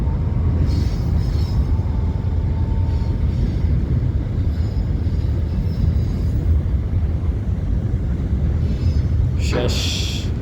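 A freight train rumbles past in Buqayq, Saudi Arabia, with loud continuous wheel roar and clatter of wagons close by, faint squeals, and a sharp metallic burst near the end.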